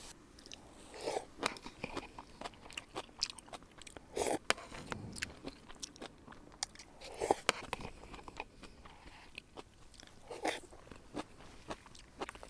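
Close, quiet chewing and crunching of Japanese supermarket food at a campsite on Hario Island in Kyushu, with repeated bites and mouth sounds in an irregular rhythm.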